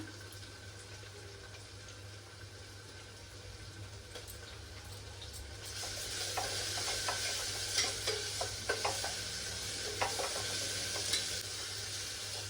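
Mint leaves and ginger-garlic paste frying in hot oil over onions for an aloo kurma, a steady sizzle that swells louder partway through with stirring scrapes and clinks, no voices.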